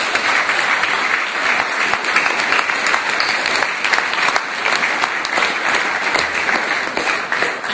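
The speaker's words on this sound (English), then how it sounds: "Give them a big round of applause too." A large audience at a presidential visit gives a big round of applause, a dense, sustained wash of clapping that stays loud and even for several seconds.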